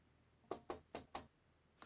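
Knocking on a door in Syberia: The World Before: four crisp raps in quick succession, near and distinct, followed by a fainter soft sound near the end, with no voices.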